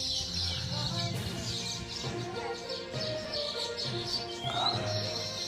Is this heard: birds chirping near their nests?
yes